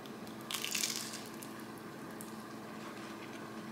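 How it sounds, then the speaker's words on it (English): A crispy Thai takeout spring roll is bitten into close up, a short crackly crunch early on, then quieter faint chewing against a low background hum. "Okay, I'm gonna try this crispy roll."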